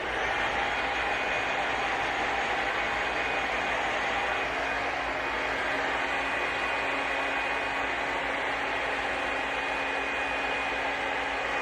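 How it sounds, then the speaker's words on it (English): A hair dryer blowing on shoulder-length hair, a loud continuous close whoosh with a steady motor whine, unbroken throughout with no talking. "So I'm gonna go ahead and start blow drying my hair."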